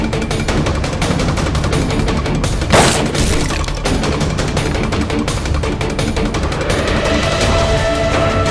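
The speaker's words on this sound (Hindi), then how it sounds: "मैम, चौपाटी पे एक शूटर ने किसी पे गोलियां चलाई है।" A shooter opens fire at Chowpatty, loud rapid gunshots cracking in a dense, continuous barrage with a heavier boom partway through, and no talk over it.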